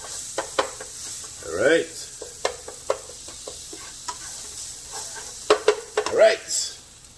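Pork sizzles in a hot pan as spicy seasoning is stirred in, with scraping stir strokes and bursts of frying crackle close by, and a brief voice speaks between them.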